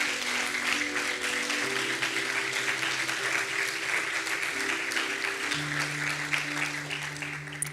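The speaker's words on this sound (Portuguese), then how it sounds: "Quem pode aplaudir ao Espírito Santo aqui?" A church congregation applauds in steady, dense clapping that fills the whole stretch, with sustained keyboard or organ chords held underneath and shifting partway through.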